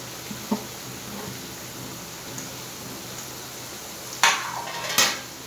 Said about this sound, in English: We'll saute it for a minute.